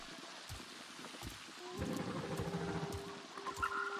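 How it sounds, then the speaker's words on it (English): Rain in the video game Avatar Frontiers of Pandora, a soft, steady patter of drops with scattered louder taps and a faint tonal hum, heard fairly quietly. "You hear the rain up here?"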